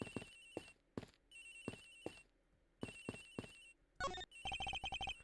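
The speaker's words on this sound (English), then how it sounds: "Agent Vic's phone is ringing from somewhere, sir." Phone ringing in the Ace Attorney Investigations video game, a chiming electronic ringtone repeating in short bursts with gaps, followed by a quicker, denser flurry of tones near the end, clear and alone.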